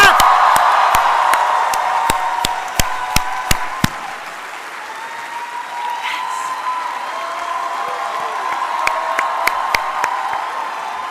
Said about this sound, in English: stand up if you can and just start cheering and clapping